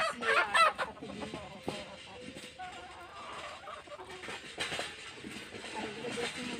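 Desi hens and a large red rooster on a home poultry setup cluck in short bursts, loudest at the start, with a person's voice and faint background noise mixed in.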